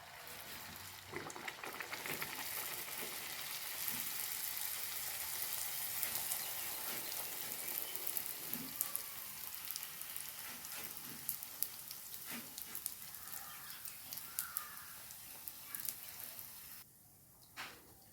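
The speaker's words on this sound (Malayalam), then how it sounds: "എണ്ണ ചൂടായിരിക്കുന്നത്. ഇനി നമുക്ക് ബട്ടൂര ഇട്ട് കൊടുക്കാം കേട്ടോ." Bhatura dough sizzling and crackling steadily in hot oil in a pan, a dense continuous fry noise with scattered pops, close and fairly loud, with no talk over it.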